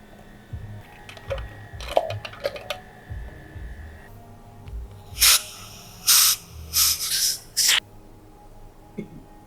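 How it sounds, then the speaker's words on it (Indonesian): A soda maker carbonates a drink, giving four loud, sharp hissing bursts in quick succession after some quieter clinks and handling noises; no one speaks. "Lalu saya akan memasukkan ke soda maker."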